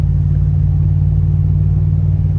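A car rolls onto a new highway, heard from inside as a steady low engine and road rumble with no talking.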